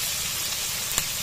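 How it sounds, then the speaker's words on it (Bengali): Spice paste of cumin, clove and cardamom frying for country chicken biryani in a village kitchen, a brief steady close sizzle with one small pop. "মশলাটা কষায় নিতেছে ভালো মতো।"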